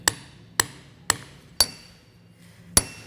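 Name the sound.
hammer tapping in a full-float axle seal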